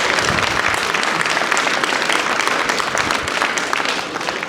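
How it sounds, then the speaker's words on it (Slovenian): Loud, continuous applause fills a hall as an audience claps at a talk, a thick crackle of many hands kept up throughout. "tako da res tudi je aplavz."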